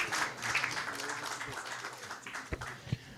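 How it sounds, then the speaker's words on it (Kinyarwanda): Quiet audience applause for a beauty pageant contestant, scattered hand claps and a few sharper individual claps, fairly faint and thin rather than a full ovation. "amashyi menshi cyane kuri Solange"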